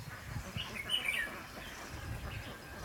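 Red-whiskered bulbuls call on a farm, a few short chirping notes near the middle over steady low background rumble, moderately distant and fairly faint.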